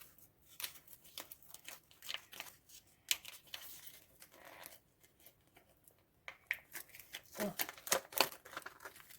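A paper surprise packet of stationery is pulled open up close in quiet, intermittent bursts of crinkling, tearing and rustling paper, separated by brief pauses, with no voice.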